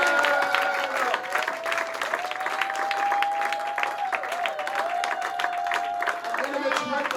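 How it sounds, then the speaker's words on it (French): A church congregation applauding, steady sustained clapping from a crowd throughout, with a voice singing or speaking over it. "on va acclamer le Seigneur"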